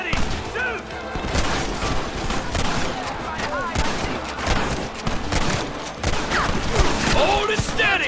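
Rapid, dense gunfire in a Red Dead Redemption battle, many overlapping shots cracking continuously and loudly from near and far, with shouted voices mixed into the chaos.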